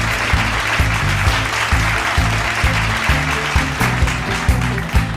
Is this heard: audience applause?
yes